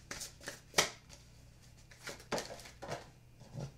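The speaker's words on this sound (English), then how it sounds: "Sorry, started shuffling." Tarot cards being shuffled by hand, a run of soft riffling bursts with one sharper snap, fairly close and quiet, no talk.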